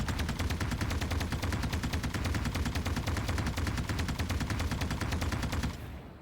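Rapid automatic gunfire in a video game pours out in one sustained, evenly spaced burst aimed at a wall, loud and dense for about six seconds before cutting off.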